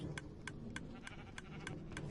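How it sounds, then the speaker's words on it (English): Sheep bleat in the video game Minecraft: a quiet series of about seven short, evenly spaced calls repeat at a steady rhythm over soft background noise. "And my sheep, which my little guys are working hard on."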